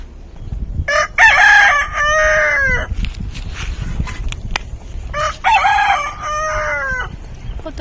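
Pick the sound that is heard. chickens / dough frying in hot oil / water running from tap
chickens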